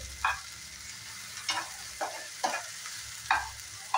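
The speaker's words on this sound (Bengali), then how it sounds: "আমি ভেন্ডিটা 1 মিনিটের মতো কুক করে নেব।" Okra frying in plenty of mustard oil in a pan, heard as a soft steady sizzle punctuated by about five brief scraping stirs at roughly even intervals, close and moderately quiet.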